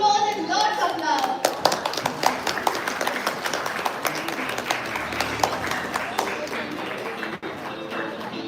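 A round of applause greets the chairperson at a live-streamed event, with a clear voice at the start before many hands break into brisk, uneven clapping that continues at fairly close range, with some talk underneath.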